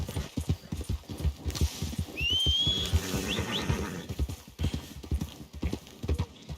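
Horse hooves clip-clop steadily and close by in the Red Dead video game, with a brief whinny partway through.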